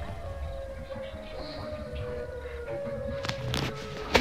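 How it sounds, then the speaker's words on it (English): Siren Head's eerie siren wail in a Roblox horror elevator game, a sustained droning tone with rising swells and a few sharper bursts near the end, moderately loud against quiet ambience. "Remember, when you hear those noises, that's Siren Head."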